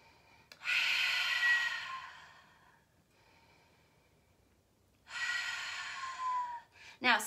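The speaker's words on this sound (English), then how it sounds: "Breathe in and out." Deep breaths during a yoga plank pose: a loud, airy inhale lasting about two seconds, a quiet pause, then a second long, rushing breath, ending with a brief close rustle.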